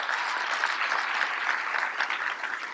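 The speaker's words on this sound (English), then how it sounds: "So give him a round of applause." Sustained applause from a gala audience, a steady, dense clapping of many hands that stays loud and even throughout, with no voices above it.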